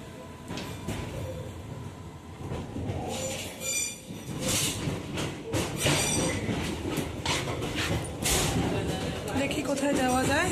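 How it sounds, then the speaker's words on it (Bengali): A train pulls away and rolls on after departing, its wheels clattering and squealing on the rails close by, with a voice talking over the steady rumble. "ট্রেন ছেড়ে দিয়েছে।"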